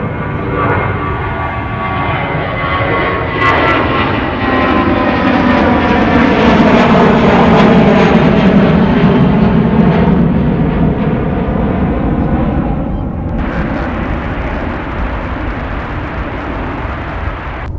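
A United airliner at MSP airport taxis and takes off, its jet engines spooling up into a loud, sustained roar that swells and then eases as it moves away.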